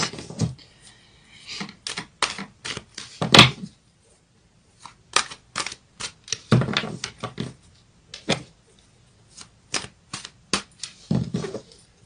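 Tarot cards being shuffled and handled, a string of crisp flicks and slaps in irregular bursts with brief pauses, close and fairly clear, no speech.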